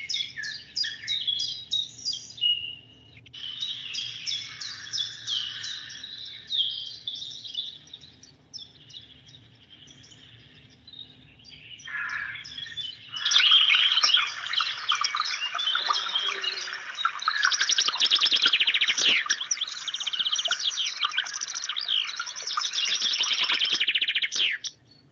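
Birds sing and chirp in bright, rapid phrases that fade briefly and then return busier and louder, played back during a class. A low hum runs underneath, with no talking.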